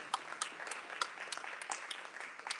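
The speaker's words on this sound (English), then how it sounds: "She needs a round of applause for that." Scattered clapping from a small audience at a candidates forum in Yazoo County, Mississippi, fairly faint, with individual claps standing out in an uneven rhythm.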